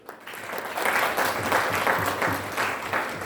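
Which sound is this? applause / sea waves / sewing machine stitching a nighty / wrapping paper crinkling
applause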